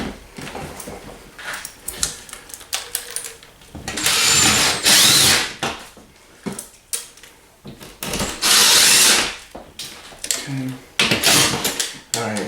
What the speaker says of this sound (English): We're drilled into the studs.